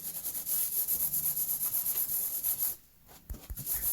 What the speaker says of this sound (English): Now apply base coat over the plaster, nice and clean